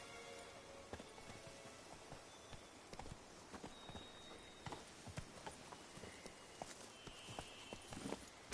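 Geralt's horse Roach galloping in The Witcher 3: Blood and Wine, a steady run of quiet hoof clip-clops moving along beneath ambient game sound.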